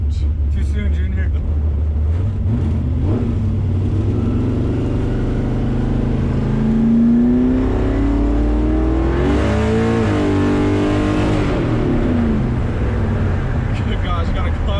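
A 1972 Chevrolet Camaro engine rumbles and revs on the street, a loud close drone rising and falling as it accelerates through gears, with people talking over it throughout.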